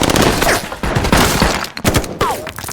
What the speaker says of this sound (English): a fierce gunfight breaks out between Russo's team and Homeland Security